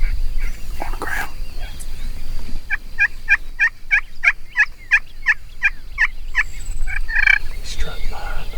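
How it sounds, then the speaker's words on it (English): A wild turkey gobbler in a field in Mexico gobbles in a rapid rattling burst of about a dozen pulses, fairly close and clear over quiet outdoor background, followed by a shorter call. "There's one gobbler right in front of"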